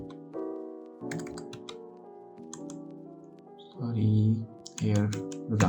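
Code is typed on a computer keyboard in a series of sharp, close clicks that come in scattered bursts beneath a man's ongoing speech.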